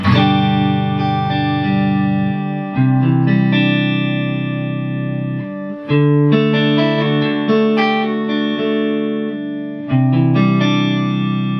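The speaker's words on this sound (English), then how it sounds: "This is the neck pickup on this guitar." Clean-toned electric guitar on the neck pickup, no pedals, played through a Two Rock Classic Reverb Signature amplifier, sustained chords and notes ringing out one after another with slight warmth.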